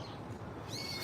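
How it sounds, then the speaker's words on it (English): Birds screech and call on a Tokyo street near Daimon and Shiba Park, a shrill high call rising over a constant outdoor city hum, no voices. "As the birds screech in my ear."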